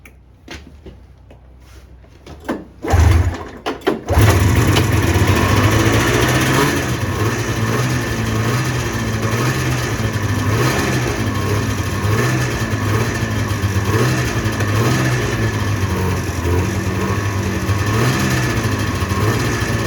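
A John Deere snowmobile engine sputters through a few cranking attempts, then catches and settles into a loud, steady running drone with slight rises in revs while it warms up.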